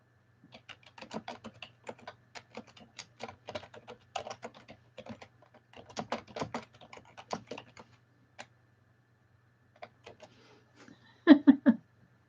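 Computer keyboard keys tapped in quick, light clusters, quiet and close, with short pauses between runs and a louder burst of strokes near the end.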